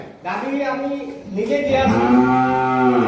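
Holstein Friesian dairy cows at a farm give long, drawn-out lowing calls close by, one after another, loud and filling the whole stretch.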